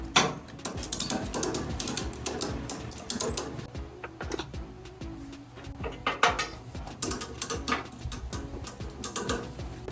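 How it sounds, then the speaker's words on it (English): Ratchet straps are cranked tight to secure a crashed 2019 Suzuki GSX-R750 on a lift, a close run of rapid clicking and ratcheting bursts with metallic rattles, no talking. "I'm gonna throw on some straps."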